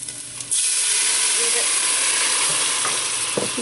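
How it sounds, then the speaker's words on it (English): Loud, steady sizzling and hissing of bacon frying in a pan, starting abruptly and continuing close up with faint clinks. "So as you can hear, our bacon is good and cooked"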